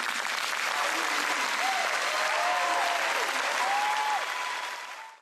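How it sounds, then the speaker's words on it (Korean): Sustained audience applause from a speech recording at a South Carolina high school, a thick steady roar of clapping with a few voices rising over it, fading out at the close. "저 연설을 듣고 사람들이 왜 박수를 치나 그런 생각을 하실 거예요"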